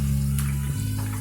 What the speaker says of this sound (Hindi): और इसे अच्छे से गोल्डन ब्राउन होने तक फ्राई करेंगे।